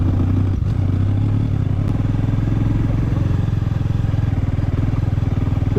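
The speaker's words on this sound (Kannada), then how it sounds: "ನನ್ನ ಗಾಡಿ ಸೌಂಡ್ ಏನೋ ಬಡ ಅಂತ ಐತೆ" A motorcycle engine chugs steadily and loudly up close on a rocky forest trail ride near a reserve forest and dam, with a rough, even thrum and some rattling clatter from the bike over uneven ground.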